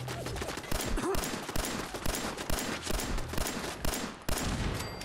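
Turret gunfire in Fallout 4, rapid bursts of automatic shots rattling steadily and fairly loud, with sharper individual cracks punctuating the stream.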